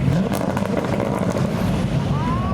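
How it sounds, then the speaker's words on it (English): A turbocharged BMW E30 engine roars nearby in a car park, loud and rough, with a rising whine near the end as it pulls away. "Surprise I saw in the car park last night was an E30 BMW. It sounds boosted."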